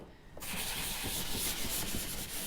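Sandpaper rubs by hand across a milk-painted wooden bedside table, a close, steady scratchy hiss that starts suddenly and continues in even strokes without speech.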